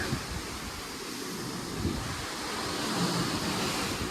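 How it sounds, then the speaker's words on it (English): Ocean waves wash against the side of a cruise ship off Bermuda, a steady broad rush of surf and wind that stays even and fairly loud with no speech. "I actually sleep at night with the waves crashing side of the ship."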